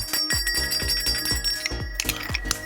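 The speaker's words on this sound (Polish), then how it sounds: "To jest dzwonek do roweru." A bicycle bell rings close up in a quick series of about six bright, evenly spaced dings, each one decaying before the next, with nobody talking.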